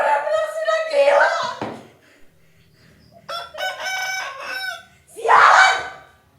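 Rooster crowing in a theatrical monologue setting, loud and close, with a long crow early on and another strong burst near the end, separated by a quieter stretch with another harmonic call in the middle.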